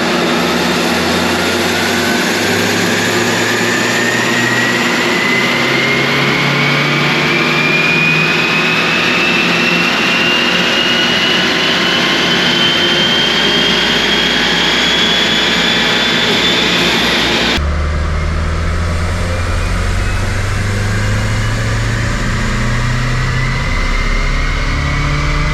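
A Unitronic Stage 2+ tuned VW Golf Alltrack wagon with the IS38 turbo engine and CTS downpipe revs on a dyno, a loud sustained engine roar rising steadily in pitch, then dropping abruptly to a lower drone near the end.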